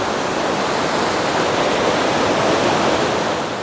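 Gudguda waterfall in Gajapati roars with a dense, even rush of falling water, loud and unbroken from start to finish, with no voices over it.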